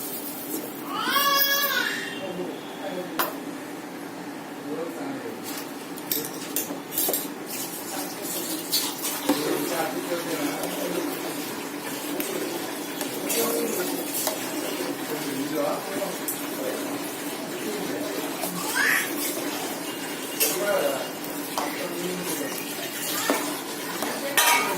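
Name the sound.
adding sugar and stirring rice kheer in pot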